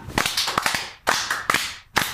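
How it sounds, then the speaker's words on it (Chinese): A live-stream studio audience claps in short, sharp bursts, with several quick claps grouped into three separate rounds over a couple of seconds, close and loud. "来大家鼓掌"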